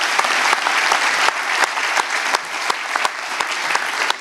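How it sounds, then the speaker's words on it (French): Vigorous audience applause at an announcement of the 2023 Madeleine bullfighting posters, loud and continuous with sharp individual claps standing out. "Clémente, sous vos applaudissements, s'il vous plaît, il le mérite"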